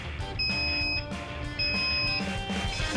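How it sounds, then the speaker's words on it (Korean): A smoke detector in a smoke test chamber sounds its alarm, with a loud, steady high-pitched electronic tone pulsing in two long beeps over a constant background hum. "요란한 경보음과 함께 LED 불빛이 깜빡이기 시작한다."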